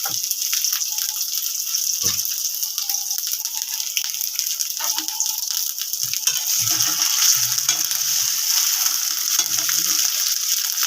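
Pumpkin and potato curry sizzles steadily in hot oil while it is stirred, with occasional scraping knocks against the pan standing out from a continuous close frying hiss.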